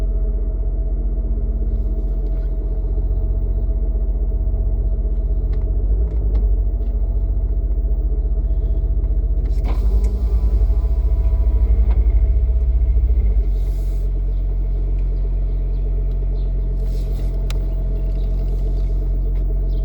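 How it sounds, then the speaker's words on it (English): A BMW's engine idles with a deep, steady exhaust rumble close by, swelling briefly with a revving surge partway through before settling back to a low drone. "You hear that BMW now, and I will start mine."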